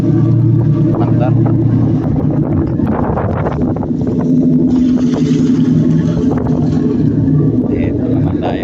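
Two marine engines running aboard a boat, a steady loud droning rumble with a constant hum, wind noise buffeting the microphone and people talking over it.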